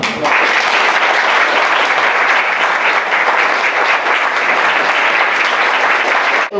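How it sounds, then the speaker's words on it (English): A gallery audience at Moderna Museet in Stockholm gives big, loud, sustained applause, a dense roar of clapping hands that holds steady from start to finish. "Thank you for coming here and give you a big applause."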